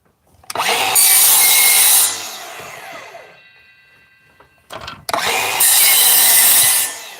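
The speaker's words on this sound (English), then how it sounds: "This is a chop saw." A chop saw (miter saw) cuts through wood during a van build, two loud bursts of whining blade and cutting, each about one and a half seconds, the first trailing off as the motor spins down before the second cut starts.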